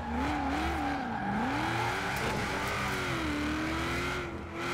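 A Cadillac XTS limousine drifts in Forza Horizon 4, its engine droning and wavering in pitch as it revs through the slide, with a steady loud hum and hints of tire scrub throughout.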